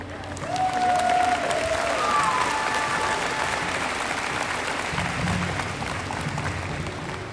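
Graduation audience at Ganado High School applauds for honored guests, a steady, full wash of clapping from a large crowd with a few whoops and voices mixed in, sustained for several seconds.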